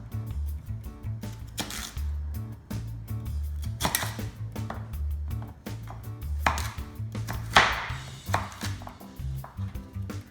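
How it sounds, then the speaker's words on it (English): Peeled vegetables get a rough chop with a knife on a cutting board, a quick uneven run of sharp knocks close by, with no talking. "Once you peel them, we're going to give it a rough chop."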